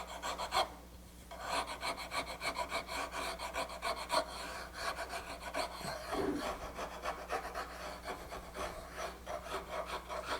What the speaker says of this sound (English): Then you go to a finer file, just like sandpaper really, except you're using files